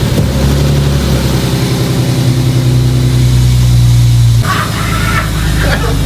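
A BMW E30 engine runs steadily and loud while the car drives, with a sustained low throbbing hum that shifts slightly in pitch, then drops briefly before continuing with some higher rattling noise near the end.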